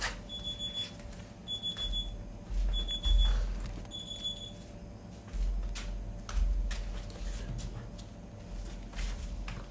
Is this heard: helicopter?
no